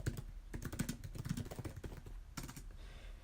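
Keys on a computer keyboard clatter in a quick, irregular run of close, soft clicks, pausing briefly near the end before a final few strokes, with no talk.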